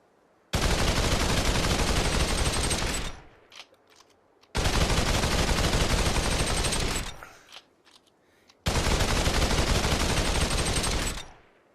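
Rapid automatic gunfire in the VR shooting game Population: One, aimed at a target, comes in three long, loud, continuous bursts of about three seconds each, separated by brief pauses.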